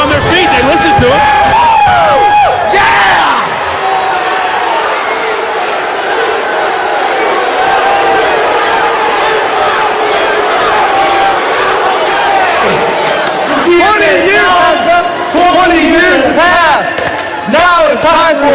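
Wrestling arena crowd roaring and cheering loudly throughout, a dense wash of voices with shouts, and a voice talks over the din.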